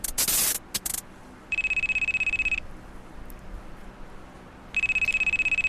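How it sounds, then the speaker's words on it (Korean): An electronic bell in a horror visual novel game rings in two steady bursts separated by a quiet pause, with a few sharp clicks at the start. "벨이 울리고 시칠은 깨어났습니다"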